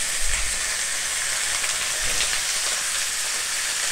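Chicken pieces frying for uppukari in a hot pan, a loud, steady crackling sizzle up close with a couple of low stirring bumps near the start.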